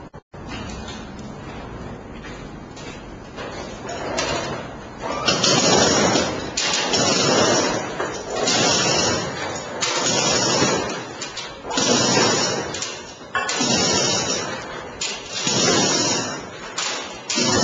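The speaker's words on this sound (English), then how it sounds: "That was the sound of our roller door opening to let some of the fume out" A roller door rolls open during a bridge drainage fire test, giving a loud, steady rumbling rattle that swells in repeated surges over about fifteen seconds, with no voices.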